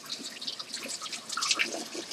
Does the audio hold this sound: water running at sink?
yes